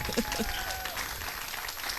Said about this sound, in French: oui, on peut applaudir pour ce Dieu-là.